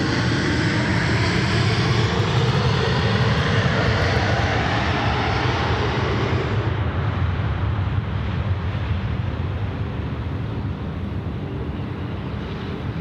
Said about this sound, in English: And right now, we've got our Emirates coming in from Dubai. It's the A380 just about to appear from the behind the bushes.